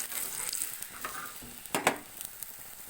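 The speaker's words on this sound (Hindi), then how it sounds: "अब मैं इसके ऊपर घी ऐड कर रही हूँ। इसको मैं पकाऊंगी" Methi paratha frying in ghee on a pan, a soft continuous sizzle with a couple of brief scraping or clinking touches near the end, close and without speech.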